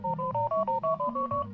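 Rapid telephone DTMF dialing tones from a robo-dialer, about eight short paired beeps in quick steady succession, loud and close with no talk.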